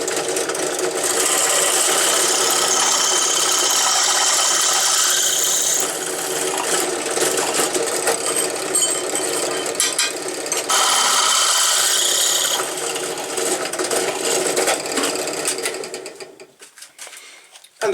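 A drill press runs and bores through mounting holes for go-kart seat attachments, a loud continuous mechanical whine and grinding that shifts in pitch as the bit bites, then winds down near the end.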